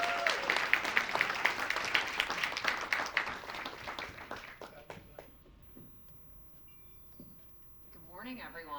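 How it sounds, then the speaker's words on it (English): A conference audience applauds as a Dell Technologies Canada sales leader is introduced, with dense clapping for about four seconds before tapering into scattered claps and a quiet room, and a few faint sounds near the end. "Big round of applause for Pamela."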